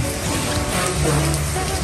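Steady rain falls outdoors during a rattan sala set delivery, a dense continuous hiss of drops on surfaces, loud and close throughout with no pauses.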